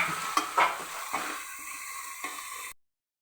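Chopped onion, carrot, green chili and ginger frying in a pan for rava upma, stirred with a few scraping spoon strokes over a soft sizzle before cutting off abruptly.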